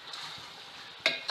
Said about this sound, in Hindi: चने की दाल डाल के इसको अच्छे से भुनेंगे।